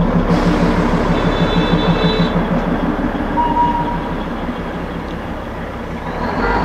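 A Darjeeling Himalayan Railway train at the terminus station rumbles close by with rhythmic clanking of wheels and cars, a brief high tone early on, continuous and fairly loud.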